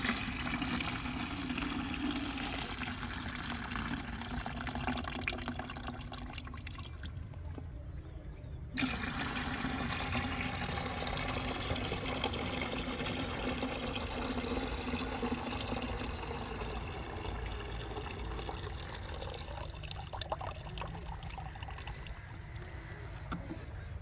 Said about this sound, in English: Once you have all 3 liquids in the bucket, add about 10 liters of clean water to dilute it.